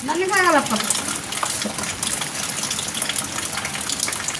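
Water gushes out as a bucket is poured, a loud splashing rush that stays fairly steady throughout, with a brief voice sounding near the start.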